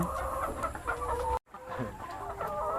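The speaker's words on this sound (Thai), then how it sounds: "วันนี้มาดูการเลี้ยงไก่พันไข่นะครับ 200กว่าตัว" Laying hens on a Thai egg farm of more than 200 birds cluck in a dense, continuous chorus close by, with overlapping calls and one brief gap of silence.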